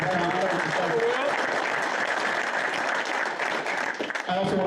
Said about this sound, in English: give Will the biggest round of applause for time